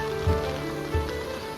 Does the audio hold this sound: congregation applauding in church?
no